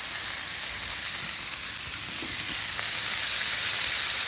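Burgers cook on a 36-inch griddle outdoors at Whitefish Lake, producing a loud, continuous sizzle and hiss that swells slightly toward the end, close up and with no talking.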